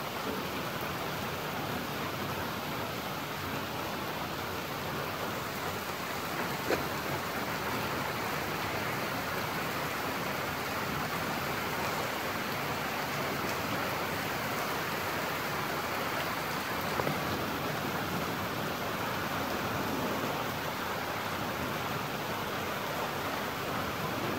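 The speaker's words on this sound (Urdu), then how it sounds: "اور میگھ برس رہا ہے۔" Heavy rain pours steadily at night in Karachi, seen from a house terrace in North Hyderabad D Block, a dense unbroken hiss that stays loud throughout with a couple of faint knocks.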